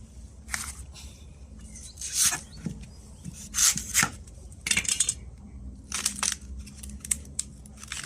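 Fresh bamboo shoots being peeled by hand, giving repeated rough scraping and tearing bursts with woody crackles, close and fairly loud, in irregular strokes over a quiet background.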